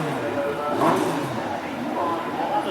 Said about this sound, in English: Pace car moves into position as Cara moves into view just behind.